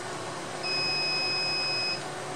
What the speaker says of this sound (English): we should get a beep from the actual controller that indicates that this got downloaded